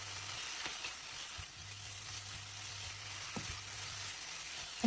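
Lamb with cumin spice mix, ginger, onion and spring onion stir-frying Xinjiang-style in a pan, a soft steady sizzle with a low hum and faint stirring scrapes, no voices.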